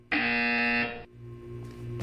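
A loud, harsh electronic buzzer from the video game Portal 2, one steady blast of about a second, followed by a low hum and faint game ambience.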